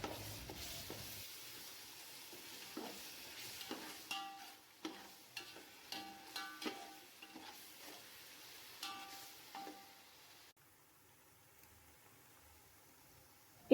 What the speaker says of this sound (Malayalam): ബാക്കി ഉണ്ടത് ഇതിലേക്ക് ഇട്ടുകൊണ്ട് നല്ലൊന്ന് അതിൻ്റെ സ്മെല്ല് പോണ വരെ നല്ലൊന്ന് വാട്ടി കൊടുക്കണം.